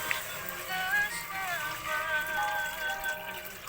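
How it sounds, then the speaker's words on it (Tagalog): Water pours into a pot of sautéed corn soup, a soft, steady trickling and splashing heard close up at low level for a few seconds. "Lagyan po natin ng konting tubig."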